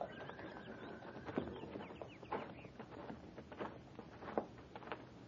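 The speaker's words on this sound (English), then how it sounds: "Take care of the horse and buggy, Jenkins." Quiet clip-clop of a horse's hooves pulling a buggy, with soft creaks and clatter, faint and somewhat distant, with birds chirping in the background.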